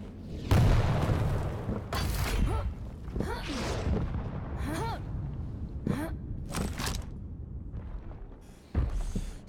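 Rocket blasts from a Quake match thump repeatedly, a heavy boom early and another near the end, mixed with game effects and talk over the top.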